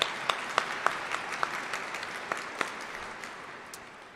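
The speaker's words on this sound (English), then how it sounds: "just wanted to maybe another round of applause for the young girl there" A small crowd at a Louis Riel commemorative ceremony gives a young girl performer a round of applause: scattered, sharp claps that gradually thin out and fade.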